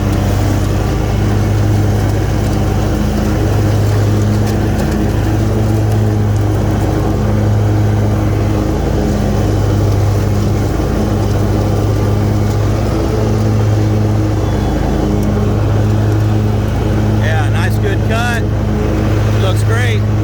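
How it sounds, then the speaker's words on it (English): A Hustler X-ONE 60-inch commercial-grade zero-turn riding mower runs loud and close with blades engaged, a steady droning engine with a pulsing low hum throughout, and a voice speaks over it. "This is a fast mower right here."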